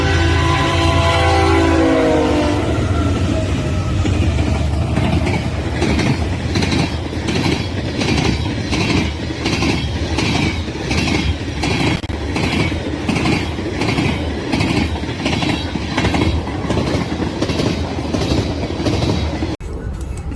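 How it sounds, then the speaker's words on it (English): CSX B726, a combined ethanol freight train carrying cars from four railroads, rolls past loud and close, a steady rumble with a continuous rhythmic clickety-clack of wheels over rail joints throughout. "Next up we have a combined ethanol on CSX B726 with 4 different railroads on it."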